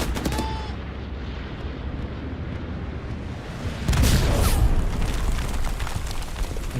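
Bombing run in the video game Hell Let Loose, a steady rumble of distant combat and scattered gunfire, then a heavy burst of loud explosions about midway that leaves a thick, booming roar.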